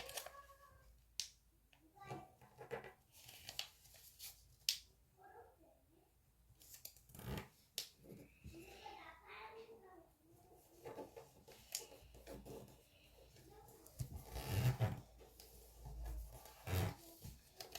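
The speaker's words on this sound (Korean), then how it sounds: "방금 접었던 선이 이 윗선에 또 닿도록 접어주세요." Colored paper is folded and creased by hand, producing soft rustles, crinkles and sharp pressing scrapes, with occasional faint speech in the background.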